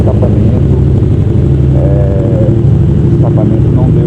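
A remapped Yamaha MT-07 motorcycle fitted with a Jeskap exhaust rumbles loudly and steadily up close, its engine note holding throughout with slight rises, while a person talks over it.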